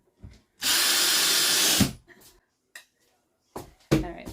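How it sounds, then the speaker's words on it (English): A power drill driving screws during a bathroom renovation, one sustained loud whirring run of over a second followed by shorter bursts and clicks, close up with brief gaps between. "I'm gonna put the rest of the screws in here."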